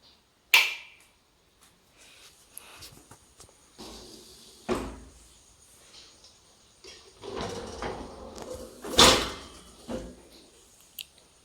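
Bosch dishwasher door opened after a wash cycle, with a latch click, a thud and scattered clattering handling noises in a quiet room, spread over several seconds with no talking.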